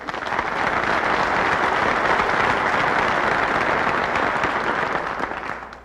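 An audience applauds at a lecture on inflation, a dense, sustained wash of clapping that swells quickly, holds steady and tapers off at the end.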